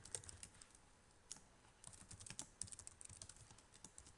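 Quick typing on a computer keyboard while a link is entered, irregular close key clicks in uneven bursts, quiet and with no speech.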